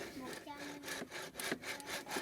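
A handmade hand-powered drill works into wood with a rough, rhythmic grinding and scraping, its strokes repeating about twice a second, close and moderately loud.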